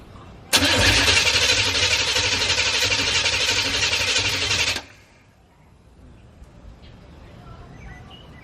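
A Corvette's starter cranks loudly and continuously for about four seconds without the engine firing, then stops, leaving faint background ambience.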